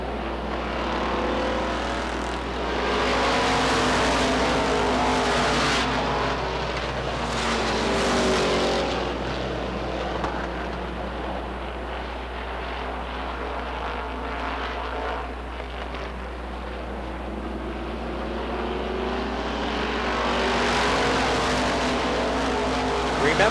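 Race cars roaring around Lee USA Speedway during an October 1993 stock car event, engines swelling and fading as packs pass, loud and continuous with a steady low hum underneath.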